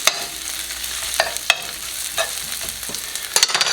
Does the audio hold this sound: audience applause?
no